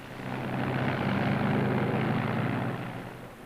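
A WWII long-range P-51 Mustang fighter's piston engine swells up into a broad, sustained roar. It holds steady, then eases off slightly, with no voices over it.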